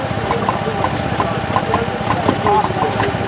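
A small stationary engine idles at an outdoor fall engine show, steady rhythmic chugging at mid distance, with someone talking over it.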